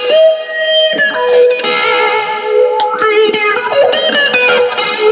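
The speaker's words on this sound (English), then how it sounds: "So now I have the distortion and the phaser on." Electric guitar played through distortion with a swirling phaser, sustained notes and chords ringing loud and continuous with no talk.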